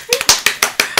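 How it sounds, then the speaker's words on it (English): Hand claps in a classroom, six sharp claps in quick regular succession, loud and close. "I heard the clap."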